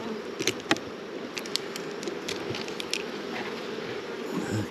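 Honey bees buzzing around beehive frames during a June hive inspection, a dense continuous hum close by with a few sharper individual buzzes passing near.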